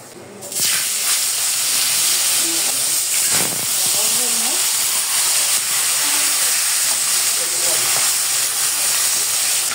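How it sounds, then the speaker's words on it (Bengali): Fish heads fry in hot oil with salt and turmeric in a home kitchen, giving a loud, close, continuous sizzling hiss that starts sharply after a brief pause and holds steady, with faint low sounds beneath. "তেলের সাথে একটু লবণ দিয়ে দিয়ে মাথাগুলো ভাজবো"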